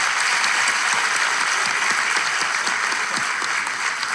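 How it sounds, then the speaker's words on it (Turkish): Enthusiastic applause from a crowd, dense continuous clapping at a steady loud level throughout, with no voices standing out. "Coşkun alkış!"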